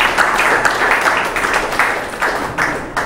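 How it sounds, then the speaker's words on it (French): Close, loud audience applause at a book dedication ceremony, dense clapping for a guest that pulses slightly and carries on steadily for a few seconds. "On l'invite chez nous et on l'applaudit aussi."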